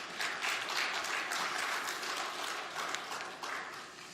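A church congregation applauds in sustained, fairly faint clapping that continues evenly throughout.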